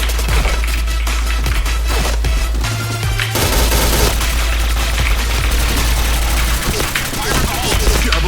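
An M4A1 rifle in a video game fires in loud rapid bursts, dense and punchy, with a short gap midway before the shooting resumes, while a low engine-like rumble drones underneath.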